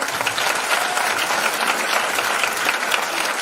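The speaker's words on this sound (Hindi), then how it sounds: "हमारे पुराने साथी जब दमदार ताली बजाएं इनके लिए" An audience at a business plan meeting breaks into brisk, dense applause. The clapping is loud, close and continuous throughout the short burst, with no talking over it.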